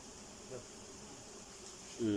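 Honey bees buzz around a hive as the honeycomb is cut for honey, a faint steady drone with one louder bee passing close near the end.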